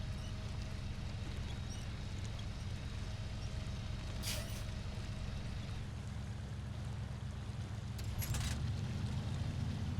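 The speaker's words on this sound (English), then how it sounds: "we're probably scraping the bottom of the truck the whole way plowing mud" Heavy low engine drone of a truck grinding steadily through thick mud in SnowRunner, with a grating scrape from the underside dragging along the whole time and brief hissing bursts partway through and near the end.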